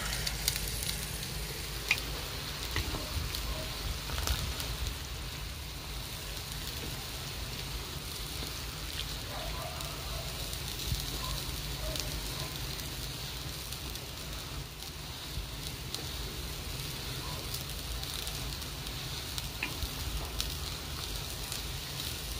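Salmon fries in a pan for a simple home-cooked meal, giving a steady, even sizzle with soft crackles throughout and no talking.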